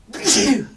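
One quick, sharp sneeze, close and moderately loud, bursting out and fading within a second.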